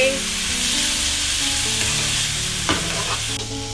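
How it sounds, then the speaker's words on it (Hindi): Veg spring roll stuffing with green chili sauce being stir-fried in a hot pan, a loud, close, steady sizzle with spatula scrapes and stirring clatter, no voices. "मिक्स करने के बाद इसको हम 1 मिनट तक और भूनेंगे"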